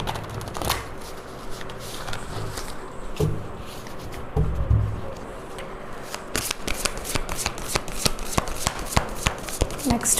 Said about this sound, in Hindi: कुछ टैरो कार्ड्स यूज़ करते हैं एंड देखते हैं व्हाट्स गोना हैपन